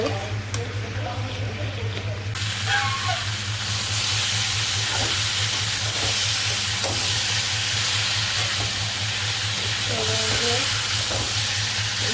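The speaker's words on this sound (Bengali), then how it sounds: "তো সবজিটা ভালো করে কষিয়ে নিই মানে একটু ভাজি ভাজি করে নিব" Vegetables stir-fried in a pan in a village kitchen, giving a loud, continuous sizzle and hiss with occasional scrapes and clinks of stirring, over a steady low hum.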